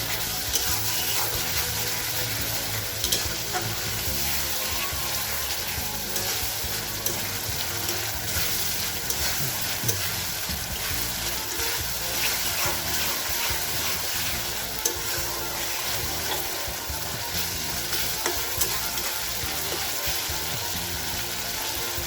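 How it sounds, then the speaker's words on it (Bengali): Spice paste sizzles and fries in a hot pan while a utensil stirs it, producing a steady, close crackle with small scraping bursts throughout. "মশলাটা একটু সুন্দর করে কষিয়ে নিতে হবে যাতে মশলার গন্ধটা না থাকে"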